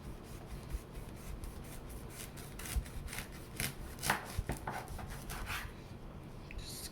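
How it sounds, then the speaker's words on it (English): A kitchen knife slicing through a block of peppermint loofah melt-and-pour soap, a series of quiet scraping, rasping cuts in an irregular rhythm, close and soft with no talking. "take my knife, my kitchen knife, and I just kind of just cut"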